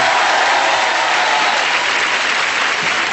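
Steady, loud applause from a large audience after a dance performance, dense clapping that holds evenly throughout without pause.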